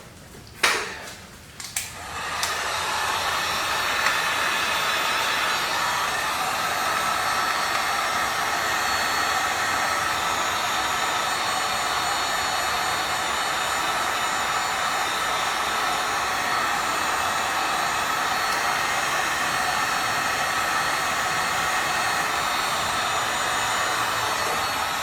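Hot air blower heating Suzuki GSF600 Bandit carburetor parts, with a few clicks at the start before a steady loud rushing whir that runs unbroken and close for the rest of the stretch, no talking.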